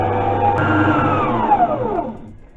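An electric mixer whirs through oil and sugar for a vanilla white cake batter, running loud and steady, then winding down with a falling pitch as it is switched off near the end.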